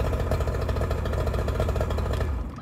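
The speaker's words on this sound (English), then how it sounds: "I'll go over here and motor fire right up." Outboard motor on a 1971 Boston Whaler Sport 13 starting and running, a steady loud close drone with a rapid pulsing beat that holds throughout and eases off at the very end.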